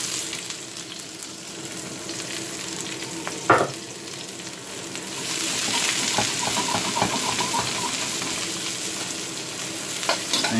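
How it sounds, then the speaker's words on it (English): Beef with carrots, onion, spring onion and marinade stir-frying in a smoking-hot pan, a loud steady sizzle with a sharp clatter near the start and a hiss that swells as ingredients are tossed, no voices. "stir fried slightly."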